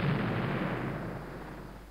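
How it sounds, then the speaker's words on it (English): Cannon fire in the Civil War strategy video game Battleground: Antietam, a dense roaring boom of artillery that fills the clip loudly and slowly fades out. "Oh man, that cannon fire."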